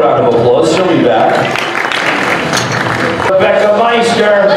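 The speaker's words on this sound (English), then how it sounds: "Give her a round of applause" Audience applause for a female weightlifter at a powerlifting squat attempt, a dense, loud wash of clapping and crowd noise sustained throughout, with voices mixed in.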